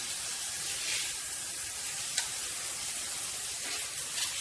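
A MakeFit filtered handheld shower head running on its inner spray setting gives a steady, close hiss of water with faint splashing patter, heard alone.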